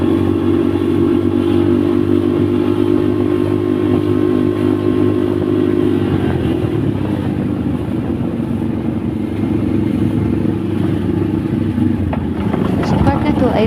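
A motorcycle engine hums steadily throughout a ride on a road heading toward rough, slippery stretches, with the drone shifting and roughening partway through as road and wind noise rise.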